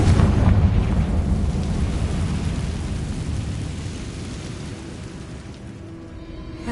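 Spell-cast explosions from Bombardo and Confringo in a video game, a dense sustained rumbling blast that rolls on loudly for several seconds and slowly tapers off.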